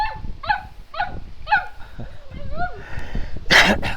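A dog barks several times in quick, evenly spaced yelps, close and fairly loud, with background commotion and a burst of louder noise at the end.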